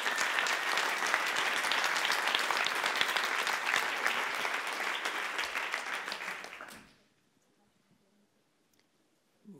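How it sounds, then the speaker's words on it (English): Applause from the audience at the 2018 Alternative Nobel Prize celebration, a dense, steady roar of clapping lasting about seven seconds before it fades abruptly into near silence. "il faut applaudir ça"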